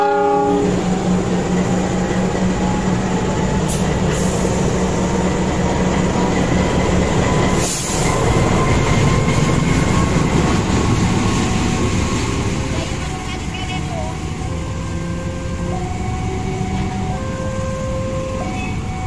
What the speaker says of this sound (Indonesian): Lokomotif CC206-1376 X Dinas